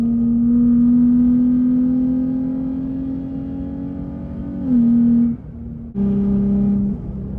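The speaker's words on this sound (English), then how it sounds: "This exhaust is so loud, bro." A 700 WHP 2023 Nissan Z engine drones loudly at high revs, the pitch sagging, cutting briefly, then roaring back with a deep, throaty exhaust note.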